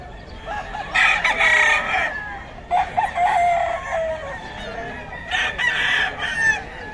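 A Boston White fighting rooster crows loudly at a busy poultry market, with two or three strong crowing calls standing out clearly over the background crowd noise.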